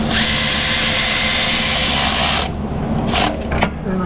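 A power tool whirs steadily as it tightens alternator bolts on a Dodge Grand Caravan, a close, loud continuous drone that drops off near the end, followed by a few short clicks and knocks.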